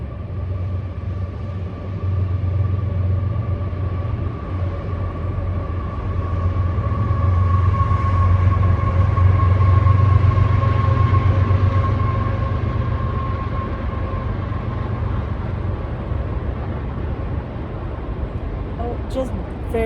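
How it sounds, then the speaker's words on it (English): A noisy goods train passing near a house, a long, steady low rumble with a faint tonal hum that swells toward the middle and slowly eases off, heard from a short distance indoors. "the train goes by her house right here"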